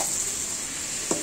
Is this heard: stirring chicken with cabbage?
yes